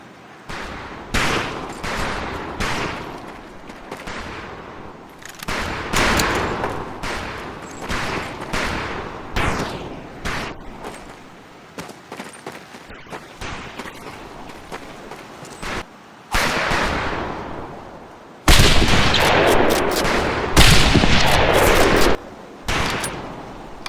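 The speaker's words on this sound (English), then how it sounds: "Conlin, Gaines, we have 2 scoped rifles available for use today. See how many hits you can get on the long-range targets." Scoped rifle shots crack repeatedly on a firing range in the video game Medal of Honor Pacific Assault, loud sharp reports in irregular volleys with other gunfire and echoing bangs, growing denser toward the end.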